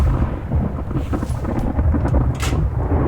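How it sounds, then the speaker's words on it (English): Thunderstorm in the survival video game The Infected, with steady rain and wind noise and a low rolling rumble of thunder carrying through the whole stretch at fairly constant loudness, no talking. "We got a storm coming in."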